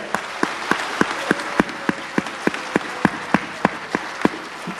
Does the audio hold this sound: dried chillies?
no